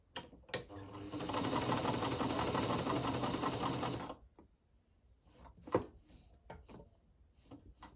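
Janome New Home Model 702 sewing machine running a zigzag stitch at stitch width 3, a steady close mechanical whir for about four seconds, then stopping, followed by scattered clicks and light handling noises.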